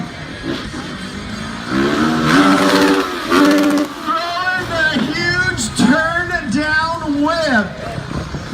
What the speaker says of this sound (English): You hear him hit that rev limiter.